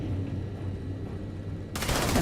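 Gunfire in the space game Starfield, a steady rattling burst of automatic shots that starts abruptly near the end and stays loud against a low background hum.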